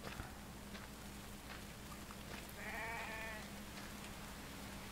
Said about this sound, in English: Oh, that's just a sheep